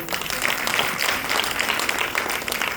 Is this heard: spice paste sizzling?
no